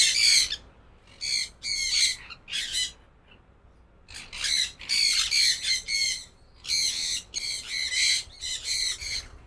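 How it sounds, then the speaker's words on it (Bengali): Rubino rosella parrots squawk in loud, harsh bursts, several clustered calls then a short pause before another run of raucous squawking close by. "রুবিনো রোজেলা অর্থাৎ লাল পাখি আমার পছন্দের পাখি"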